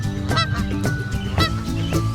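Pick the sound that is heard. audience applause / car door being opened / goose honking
goose honking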